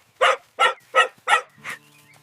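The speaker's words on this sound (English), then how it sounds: "Look! A small brown dog." A small brown dog barking five times in a steady rhythm, loud and close, with the final bark a little weaker and the surroundings otherwise quiet.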